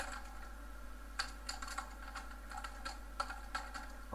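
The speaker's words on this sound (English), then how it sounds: "If I type here" Keys clatter on a computer keyboard as code is typed for an ActionScript 3.0 hit-test routine, a quiet, irregular patter of close taps in short bursts with small pauses, ending on one louder press.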